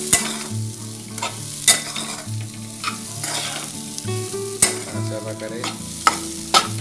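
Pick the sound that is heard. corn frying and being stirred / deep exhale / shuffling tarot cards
corn frying and being stirred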